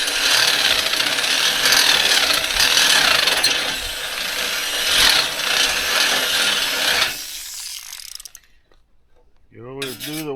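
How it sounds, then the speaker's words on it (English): A power drill grinds steadily through a hole in driveway gate material for about seven seconds, then stops, leaving near silence before a brief voice. "You always do the Waldron just a little bit at a time. Don't want to break the drill bit."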